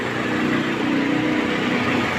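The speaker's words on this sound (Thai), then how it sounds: "เครื่องยนต์นะครับผม เครื่องเดิน เรียบนะครับ ผมไม่มีสะดุดนะครับ" A 2012 Toyota Yaris with automatic transmission idling, its engine running smoothly and steadily with a close, even mid-pitched hum and no stumbles, heard alone without talk.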